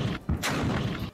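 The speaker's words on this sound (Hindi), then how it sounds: "तोप, गोले, मिसाइलें," Artillery and missile fire during a Houthi military drill near the Saudi border, heavy booming thuds and blasts in quick succession, a rumbling, dense barrage with no speech.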